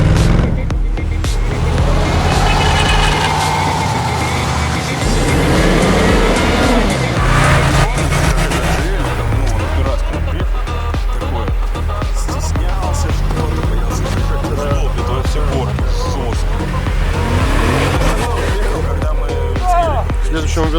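A stuck Lada Niva's engine revs steadily as the driver tries high range and it will not reverse, a loud continuous motor drone under people talking.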